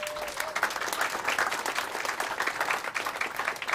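Audience applause at a freethought convention event, a fairly distant, even patter of many hands clapping for several seconds with no talk over it.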